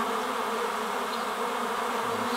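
A honey bee swarm drones steadily around pear trees, a dense, continuous buzz of many bees close by with no break over the whole stretch.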